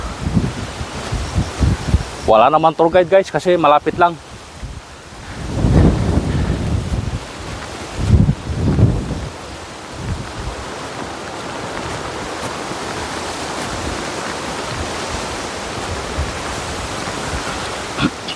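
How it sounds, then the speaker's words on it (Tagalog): Strong gusting wind on Mt. Makiling near Sto. Tomas, Batangas, roars and buffets close at the microphone almost throughout, with someone speaking briefly over it early on. "Grabe ang lakas ng hangin dito."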